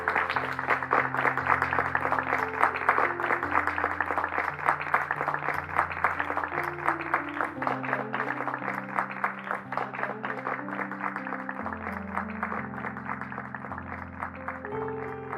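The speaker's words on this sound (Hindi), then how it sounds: "जोरदार तालियों के साथ आप सभी इनका स्वागत, अभिनंदन कीजिए" An audience applauds to welcome Professor Umang Prakash at a ceremony, dense steady clapping lasting throughout over sustained music tones underneath.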